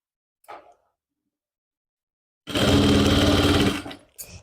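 A sewing machine stitches a lined suit in one loud, fast mechanical run of about a second, close by. A brief fainter rattle comes before it, and a short burst follows at the end.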